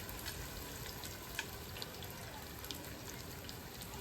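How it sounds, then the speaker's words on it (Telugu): Onions fry in hot oil, a steady broadband sizzle with occasional small pops, quiet and close with no voices. "ఈ ఉల్లిగడ్డలు వేయించుకోవాలి."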